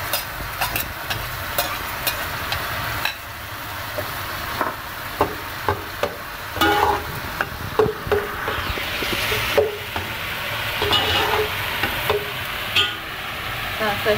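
Ginger, garlic and onion paste dropped into hot cooking oil for chicken korma, a bubbling sizzle broken by repeated sharp spoon taps and scrapes against the pan, close and fairly loud.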